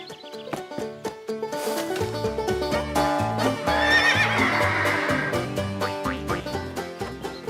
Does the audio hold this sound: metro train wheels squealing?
no